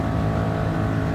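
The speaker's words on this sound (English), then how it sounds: "Sound of this car." A Ford Mark IV Race Car '67 in Gran Turismo 7 drones with a steady, loud engine roar on a special stage route, holding one sustained note with no one talking.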